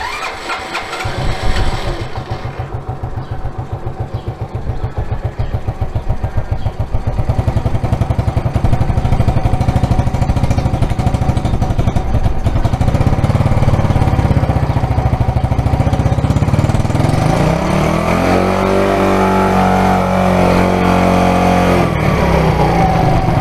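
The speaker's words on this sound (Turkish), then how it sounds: "Evet şimdi mikrofonu taktım ve motor çalıştırıyorum." Motorcycle engine cranking and catching, then settling into a steady, loud, close idle with an even low throb that runs for about twenty seconds, its tone shifting slightly near the end.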